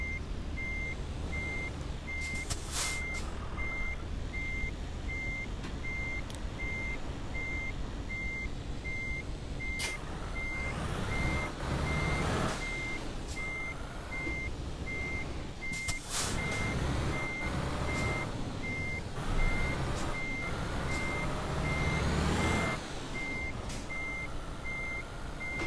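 Truck in Euro Truck Simulator slowly backing up with a trailer, its reversing alarm beeping in a steady repeated rhythm over a low engine rumble, with occasional hiss and clunk from the brakes.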